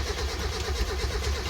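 A Mazda Miata engine cranking and trying to catch after a SpeedyEFI fuel injection install, a close, rough, uneven churning with low pulses throughout the short burst.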